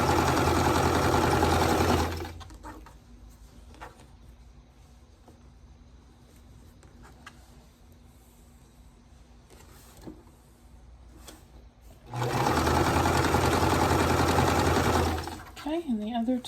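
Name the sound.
sewing machine stitching quilt half square triangles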